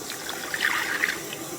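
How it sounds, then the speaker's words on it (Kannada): Water trickles in a thin, steady pour into a ground tomato mixture for home-style rasam, close and soft, with no voices. "ಇದನ್ನು ಇದಕ್ಕೆ ಹಾಕ್ಬಿಟ್ಟು ಎಷ್ಟು ಕ್ವಾಂಟಿಟಿ ಬೇಕಾಗುತ್ತೋ ನೀವು ನೋಡಿಕೊಂಡು ನೀರು ಹಾಕ್ಕೊಳ್ಳಿ"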